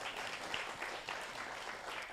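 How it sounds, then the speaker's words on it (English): Steady applause from a conference audience for a panel of speakers, fairly faint and even, with no talk over it. "Let's give a round of applause to the panelists."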